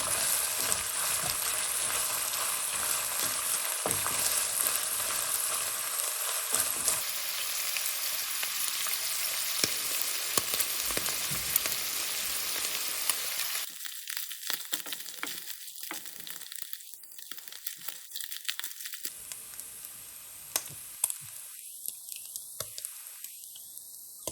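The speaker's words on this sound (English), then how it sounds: "We're going to add 2 teaspoons of cooking oil. 2 And then keep stir fry for about 1 to 2 minutes." Mapo tofu ingredients stir-fry in cooking oil, first with a dense, loud sizzle and hiss, then with more broken crackling and spatula scrapes as the frying sound comes and goes.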